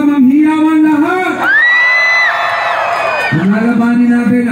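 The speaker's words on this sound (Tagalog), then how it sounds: "Palakpakan ang may kasamang hiyawan lahat!" At a political rally in Tacloban for Mayor Isko Moreno, a crowd whoops and yells loudly together in long, rising and falling cheers. The sound is close and sustained, with one brief dip midway.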